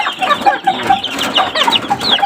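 A hen clucks repeatedly at close range, short rhythmic bursts in a quick series with no talking.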